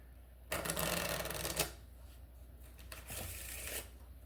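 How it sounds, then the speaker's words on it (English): A deck of playing cards is shuffled once at close range: a quick riffle burst with a soft flutter, then a brief pause and a second, quieter ruffle as the cards settle. "I'm gonna shuffle once."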